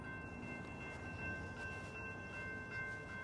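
A train passing near a station in Berkeley, a steady close rumble of rail cars with sustained tonal whine and faint clatter, no one speaking.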